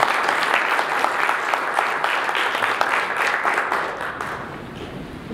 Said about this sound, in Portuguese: Então eu quero pedir mais uma salva de palmas para o Manuel.